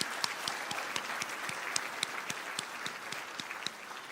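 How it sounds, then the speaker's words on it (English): Guests at a fundraising event applaud, a soft, distant spread of many hands clapping, with a few sharper individual claps standing out in an even rhythm. "so give yourself applause"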